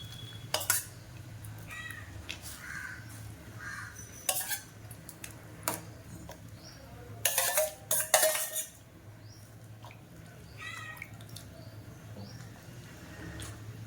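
Lentils poured into a simmering pot of drumstick-leaf curry with a brief rattling rush, among scattered clinks of a metal spoon against the pot, fairly close.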